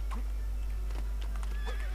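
A horse whinnies twice in the LEGO Pirates of the Caribbean video game, with short neighs and light hoof clip-clops over a low constant hum and faint game sounds.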